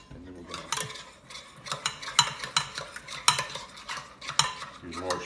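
A large spoon stirs cocktail sauce with prepared horseradish in a bowl, giving a steady series of scraping, clinking sweeps that recur about once a second, close up, with no talk.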